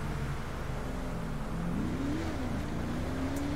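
A car accelerating in GTA V on a FiveM server, with a steady engine drone that climbs in pitch as it speeds up and keeps going at close, moderate volume, no talking.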